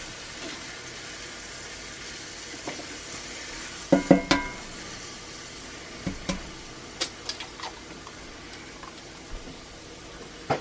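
Eggs frying in butter in a small cast iron mini egg pan, a soft steady sizzle with a few sharp clinks and scrapes of a utensil against the iron scattered throughout.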